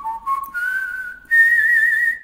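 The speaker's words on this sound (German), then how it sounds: "Pfeifenton, den du damals gemacht hast für diesen Podcast" A clear whistled tone made for a podcast intro, rising in pitch in steps and holding a sustained higher note near the end, sounding close and alone with no talking.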